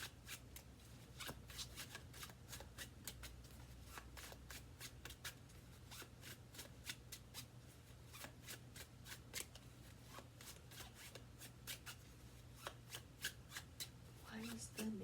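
Oracle cards shuffled by hand in a steady, rapid series of crisp riffling flicks up close, continuing for the whole stretch over a faint low hum.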